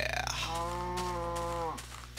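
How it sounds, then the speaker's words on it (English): A single drawn-out cow moo from Minecraft sounds close and clear, a steady tonal call of over a second over a low continuous hum, ending abruptly. "Shut up, cows. Really annoying."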